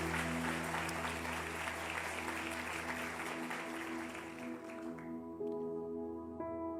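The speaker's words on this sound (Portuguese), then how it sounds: "Você pode aplaudir aí bem forte o nome de Jesus?" A church congregation applauds strongly during a worship service, broad steady clapping filling the room with sustained music chords underneath; the clapping thins out toward the end as the music carries on.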